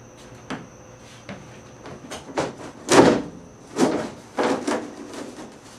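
A quarter-inch plywood sheet is lowered into a wooden Murphy bed frame, producing a string of scraping, sliding thumps and knocks, several louder bumps spaced unevenly over a few seconds at close range.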